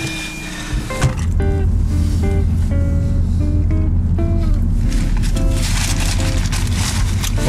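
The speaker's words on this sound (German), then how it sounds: "Ihr hört den Motor, wir fahren weiter." A loud, steady boat motor drones throughout, with wind and water rushing and a few short tonal beeps layered on top.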